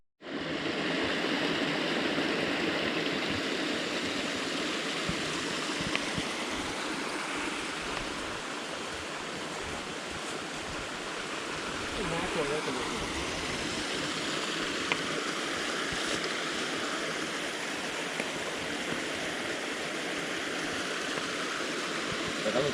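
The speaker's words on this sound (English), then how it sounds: "I know, it looks like a little waterfall." A small woodland waterfall and stream rush steadily nearby in a continuous broadband wash of flowing water, with faint outdoor voices occasionally underneath.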